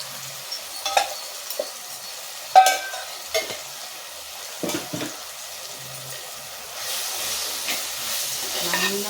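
A spoon stirs homemade chili powder into a fish curry masala frying in a pan, with scraping clicks and taps over a gentle sizzle that grows louder toward the end.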